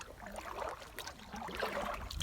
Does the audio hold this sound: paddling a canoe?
yes